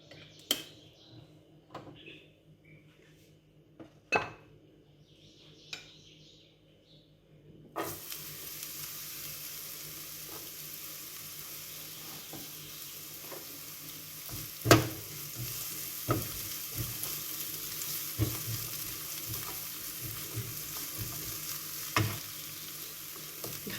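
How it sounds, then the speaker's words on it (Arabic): Onion and chicken frying in olive oil for a keto sandwich, a steady close sizzle that starts suddenly partway through, with occasional knocks and scrapes of stirring in the pan. "دابا غندوز نشحر هاد البصله مع الدجاج"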